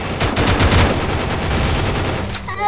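Rapid gunfire in a shooting video game crackles loud and close in a dense volley that cuts off near the end, followed by a brief electronic tone.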